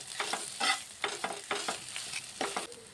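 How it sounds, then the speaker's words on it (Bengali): Potatoes stirred in a pan over a low gas flame, a spoon scraping in repeated short strokes over a steady close sizzle of frying, with no voices. "এবার আলুগুলোকে আমি সুন্দর করে একটু ভালো করে মিশিয়ে নেব"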